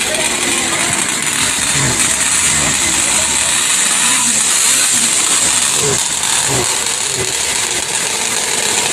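A small two-stroke engine of a 1971 Rupp snowmobile runs steadily nearby, buzzing and droning throughout, with people talking underneath.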